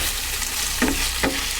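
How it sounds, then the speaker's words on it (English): Frozen peppers frying in a frying pan: a constant bright sizzle and hiss filling the clip, with two brief stirring scrapes, close and without voices. "Although I'm only cooking a few frozen peppers here, it's actually quite fun getting a frying pan out again."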